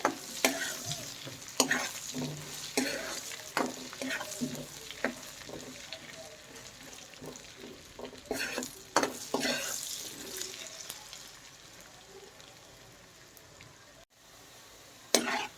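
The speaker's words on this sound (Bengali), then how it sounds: "আলুটা একটু হালকা লাল লাল করে ভাজবো" Potatoes fry in a pan for a broiler chicken curry, a soft continuous sizzle broken by sharp scraping clatters each time a utensil stirs them, the strokes coming irregularly and fairly close.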